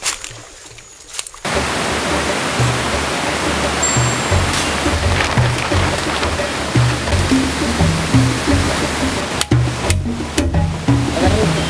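The Caño Mateco, a tributary river of the Autana in the Venezuelan forest, flowing as a steady close rush of water that starts abruptly and continues with faint scattered sounds over it.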